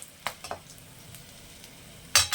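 Cinnamon, cloves and cardamom for tempering drop into hot oil in a pan for Basanti pulao, with a faint low sizzle broken by a few sharp clicks of utensil against pan, ending in a louder scrape.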